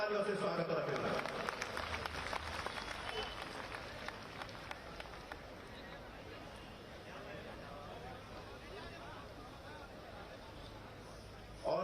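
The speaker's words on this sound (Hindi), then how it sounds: "जोरदार तालियों से स्वागत और अभिनंदन।" An audience at the Gwalior fair opening ceremony applauds with sustained, dense clapping that carries on steadily for nearly twelve seconds, heard at a moderate distance within a large crowd's murmur.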